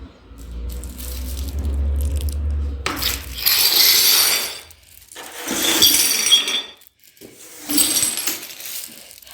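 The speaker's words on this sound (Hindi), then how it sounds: "जार टूट जी, ये मेरे से टूट गया है" Broken pieces of a glass jar clink and rattle in several loud bursts of sharp, bright jingling, separated by quieter pauses and preceded by a low hum.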